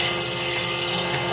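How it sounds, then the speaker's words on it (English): A machine drills holes while machining knife blade and handle parts, giving a steady high whine that runs loud and unbroken for a moment with no voices. "Just for the drilling."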